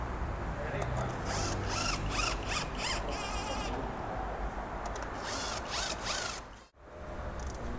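Power tool ratcheting and whirring in short repeated bursts while engine bolts are tightened during a rebuild after an overheating repair, set against a loud, busy workshop background.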